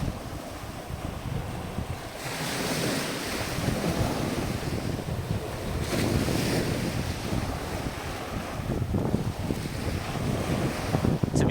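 Waves roll onto the beach at Lipa Noi on Koh Samui, a continuous surf wash rising and falling with heavy wind buffeting the microphone, with no talk.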